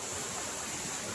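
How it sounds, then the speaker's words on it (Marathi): A monsoon-swollen river in Konkan surges past, running full to its banks, a steady broadband roar of rushing floodwater with no pauses, close and loud. "कसा वाहतोय बघा पर्या, तुडुंब भरून."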